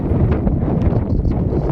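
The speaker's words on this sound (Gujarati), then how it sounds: "અહીંથી આપણે પવન છે કે બધા જોવો મિત્રો" Wind gusting steadily across an outdoor mango orchard in the monsoon season, a loud, broad rumbling roar buffeting the microphone throughout without a break.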